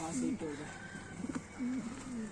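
Soft, repeated pigeon cooing in gentle rolling phrases, close by, with a faint background hum.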